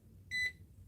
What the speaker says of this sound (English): If we hear the beep, we know the leads are good at least